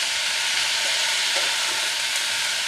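Bottle gourd fries on high flame in a pan with hing for a Bengali lau ghonto, a loud continuous hiss of oil and moisture that stays even throughout with faint stirring scrapes.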